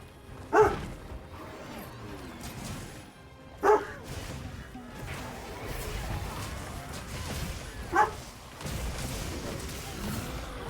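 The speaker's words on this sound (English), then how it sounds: "Gonna hear him bark a little bit in the background for a little while." A dog barks somewhere in the room behind a gamer, giving three separate sharp barks a few seconds apart that stand out clearly over steady background noise.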